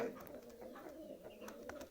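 Pet pigeons near their nesting spot coo softly, a faint, low burbling that sits far back in quiet surroundings.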